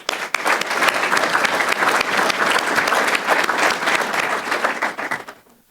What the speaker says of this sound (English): let's have a round of applause for their service